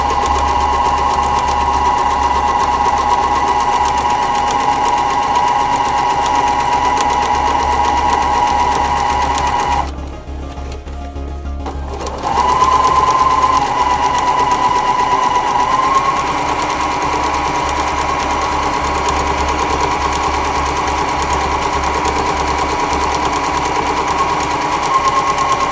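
A sewing machine stitches the side seam of a Christmas stocking in long continuous runs with a steady high whir, pausing briefly partway through before resuming, loud and close.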